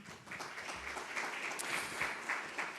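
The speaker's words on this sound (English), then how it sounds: "Can you please give another warm round of applause to Ben Yorster, Tommy Kazaru." Audience applause at a Namibian public-private forum, a steady wash of clapping that holds fairly even across the moment with slight swells, moderately distant and without speech.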